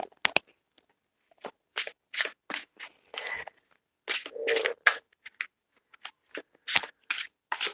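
A deck of cards shuffled close up in repeated quick riffling bursts, each a short papery flutter, with brief pauses between and no voices.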